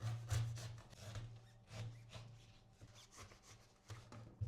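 A Karda Neptun folding knife saws through the sole of a shoe in short, repeated rasping strokes, faint and close, with a rough rubbing texture and brief pauses between cuts.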